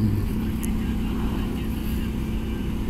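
A motorcycle ridden on a cold January commute shows as a steady, continuous low engine rumble mixed with wind buffeting, loud and unbroken throughout.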